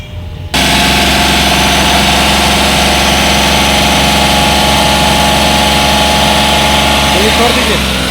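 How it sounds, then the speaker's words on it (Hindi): Mahindra Bolero Power Plus BS6 diesel engine starting abruptly and settling into a loud, steady close idle that runs on without pause. "स्टार्ट कर दो गाड़िया"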